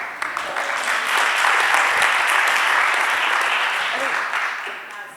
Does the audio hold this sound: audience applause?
yes